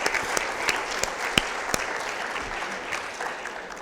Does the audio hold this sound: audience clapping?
yes